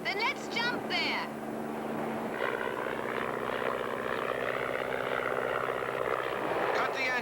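A light aircraft's engine drones steadily throughout, a continuous close propeller hum with people talking over it.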